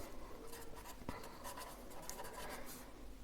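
Marker or chalk writing on a board during an accountancy lesson, a steady faint scratching of strokes over low background hiss, with one sharp tap midway.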